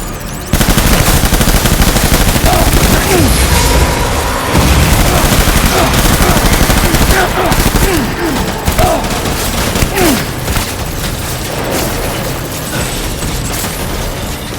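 Sustained heavy automatic gunfire and bursts from the video game Death Stranding Director's Cut, loud and dense for most of the stretch, with a few booming impacts.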